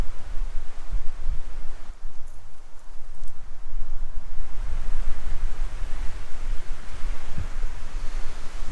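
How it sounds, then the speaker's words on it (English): Strong wind gusts roar steadily at a lakeside campsite, a loud broadband rush with low buffeting thumps that never lets up. "this is bad wind"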